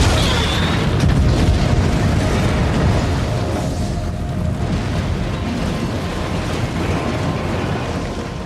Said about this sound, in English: Blows it up completely.